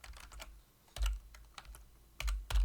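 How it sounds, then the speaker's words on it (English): Quiet, irregular typing on a computer keyboard during a programming lecture, with clusters of light key clicks and a few heavier thumps, likely the spacebar or enter key, close to the microphone and with no talking. "I always fucking mess up my typing."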